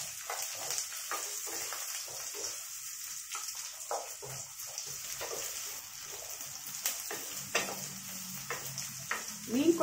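Onion and garlic sizzle and crackle in hot oil for a red snapper fish curry, with steady frying hiss and occasional stirring scrapes, close and fairly loud throughout.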